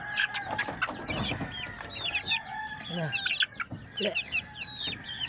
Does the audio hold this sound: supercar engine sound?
no